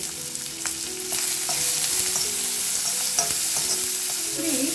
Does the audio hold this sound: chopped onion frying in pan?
yes